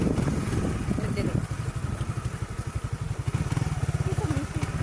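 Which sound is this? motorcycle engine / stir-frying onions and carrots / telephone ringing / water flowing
motorcycle engine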